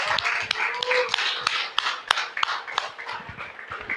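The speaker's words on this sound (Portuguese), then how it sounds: "Por favor, uma salva de palmas bem bonita ao Senhor Jesus" A church congregation applauding at a service, a steady wash of many hands clapping with sharper individual claps standing out, moderately loud and sustained throughout.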